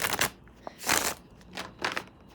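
Cards shuffled by hand in three or four brisk bursts, each a crisp riffling flutter, close and fairly quiet with short pauses between.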